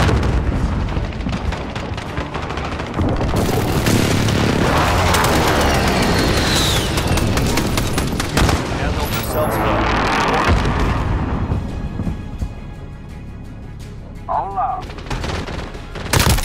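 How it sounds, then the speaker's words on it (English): Airstrike explosions and bursts of gunfire in Call of Duty: Modern Warfare gameplay, heavy booms and rattling shots filling most of the stretch, loud and dense, easing toward the end. "Enemy precision airstrike."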